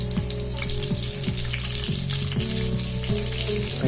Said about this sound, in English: And keep a watch on how fast it's frying, because it cooks pretty fast.